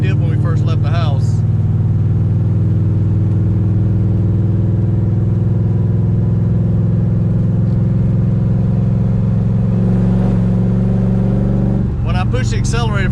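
A 1968 Dodge Charger with a Hemi engine and NAG1 transmission on a test drive, its engine droning loud and steady from inside the car while it bogs under acceleration, with a voice talking briefly near the start and end.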